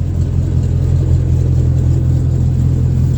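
A 1965 Chevy C10 pickup with a cold air intake runs close by, a loud continuous low rumble held at a steady rev with no talking.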